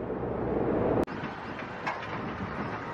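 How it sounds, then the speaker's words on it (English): An open tram rumbles along at Space Center Houston with a steady rolling hum and a sharp click partway through, heard up close and without talk. "Riding the tram."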